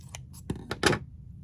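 A few quick snips of scissors cutting paper for swirl picks, soft and close, in short separate strokes with no talk.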